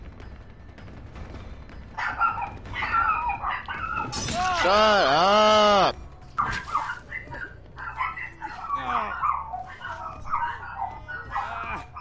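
A dog in the room barks and whines, with one long, loud, wavering howl-like cry in the middle, heard close by over Dead by Daylight game sounds while a person talks.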